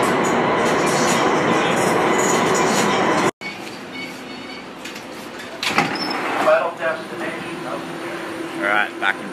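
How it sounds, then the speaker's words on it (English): A train rumbles along with a dense, steady roar that cuts out abruptly, followed by quieter interior rattles, clicks and faint voices in the carriage. "just jumping on the train."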